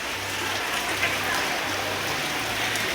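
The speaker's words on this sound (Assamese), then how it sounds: "বৰষুণ দি আছে, বহুত বৰষুণ হৈ আছে ইয়াত" Steady, dense rain hiss fills the whole stretch, a constant wash of falling water with a low rumble underneath.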